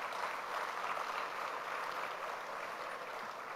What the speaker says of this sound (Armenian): արժի, որ մենք ծափահարենք մեր այսօրվա հարգելի նվիրատուներին